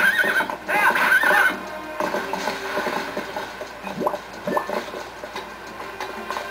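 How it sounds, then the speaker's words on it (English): A horse in The Legend of Zelda: Twilight Princess gives a loud, close whinny, then trots in with rhythmic clip-clopping hoofbeats against game ambience. "your horse will come so we can jump over this fence"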